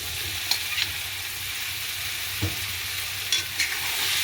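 Eggplant sautéing in oil gives a steady, close sizzle, with a few soft scrapes and taps as the pieces are stirred.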